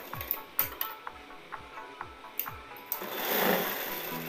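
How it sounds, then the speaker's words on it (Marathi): A sewing machine double-stitching a katori blouse gives a steady train of mechanical ticks and clacks at an even pace. A soft whirring rush swells near the end. "हे बघा मी डबल शिलाई मारून घेते."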